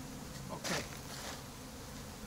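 A steady, faint buzz of bees hums throughout, with a brief louder rustle near the start and no voices.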